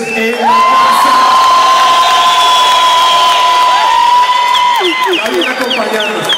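Crowd cheering and shouting for a DJ at a Colombian hip hop event, loud and sustained with whoops and a long held tone running through the noise.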